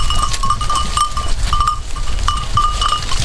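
Goats on a farm give bleats in short repeated bursts, fairly close and loud, over a steady outdoor background with no speech.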